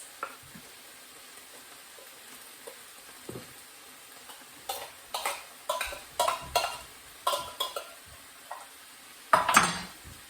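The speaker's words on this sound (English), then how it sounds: "I'm now going to add the peppers, the mushrooms, the bamboo shoots" Peppers, mushrooms and bamboo shoots tumble into a hot pan for an oil-free sweet and sour vegetable stir-fry, giving a run of close, quiet sizzles and scraping stirs, with a louder clatter near the end.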